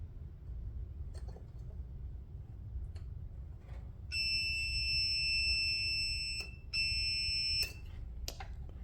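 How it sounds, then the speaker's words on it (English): A multimeter sounds its continuity beep during tests on the wire harness of a 2005 Ford Focus ST: a steady electronic tone held for about two seconds, then a second, shorter beep, clear and close over a quiet background. "If it beeps and has continuity, we know that this thing works"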